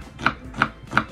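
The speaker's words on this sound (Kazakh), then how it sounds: "Пиязымызды майдалап турап аламыз." A knife finely chopping onion strikes a cutting board in three crisp, evenly spaced chops, close and clear, with no talking.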